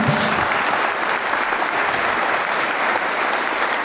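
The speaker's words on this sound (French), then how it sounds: "On peut l'applaudir." An audience applauds loudly and steadily at a business talk on rooted companies and entrepreneurs, a thick continuous wash of clapping that fills the whole moment without pause.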